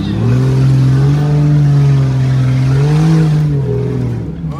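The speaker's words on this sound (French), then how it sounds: "qu'est-ce qu'il gueule maintenant avec l'échappement?" A car's exhaust roars loudly as it drives along a forest road, with a sustained engine drone that swells and eases as it pulls, then fades near the end.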